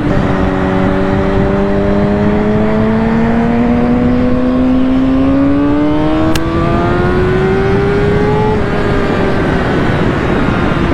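A 2020 Kawasaki ZX6R motorcycle engine revs hard and climbs through its range, a loud rising high-pitched whine carrying steadily with wind roar underneath.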